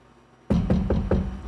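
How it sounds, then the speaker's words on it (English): Knocking on a prison cell door: four sharp raps in a steady rhythm, close and loud, after brief quiet. "knock on it"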